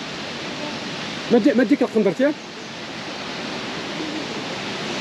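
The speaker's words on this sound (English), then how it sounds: "this is the second biggest waterfall in Africa" The Ouzoud waterfalls in Morocco, among Africa's largest, give a steady broadband roar that fills the whole clip, with a short burst of nearby speech near the middle.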